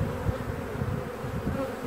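Honeybees buzz steadily at an open hive during spring inspection, a dense close-up drone filling the short stretch without any talk.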